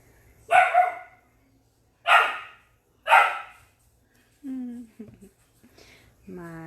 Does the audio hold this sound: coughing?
no